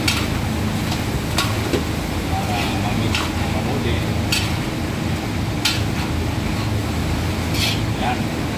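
Food with soy sauce and Sprite is stirred in a cooking pan, sharp utensil scrapes and clinks recurring irregularly over a steady low sizzle and background rumble, with a person talking.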